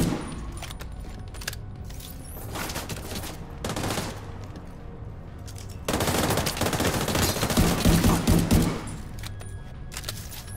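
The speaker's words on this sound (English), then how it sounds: "God damn it, a turret!" Automatic turret in The Division 2 opening up in rapid bursts of gunfire, sustained rattling volleys that swell louder near the end amid game sound effects.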